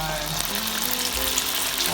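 Pempek Palembang fish cakes fry in hot oil with a steady, close crackling sizzle throughout a short moment.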